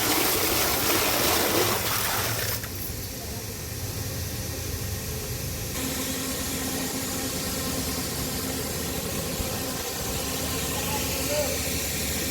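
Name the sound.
water running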